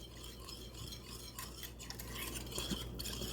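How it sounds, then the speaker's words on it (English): A spoon stirs lemon meringue pie filling in a pot over medium heat, giving soft, continuous scraping and clinking against the pan, quiet and close with no talking. "And on medium heat, we're gonna just stir this together"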